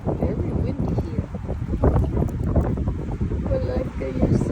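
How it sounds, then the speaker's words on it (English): Gusty wind buffets the microphone with a low, rumbling roar at Ed Z'Berg Sugar Pine Point State Park, California, steady throughout, while someone speaks over it. "Here comes the wind."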